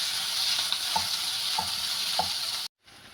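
Capsicum sautéing in a pan for dhaba-style paneer bhurji: a steady, close sizzle with a few soft stirring scrapes at regular intervals, then a sudden cut to near silence at the end. No one speaks.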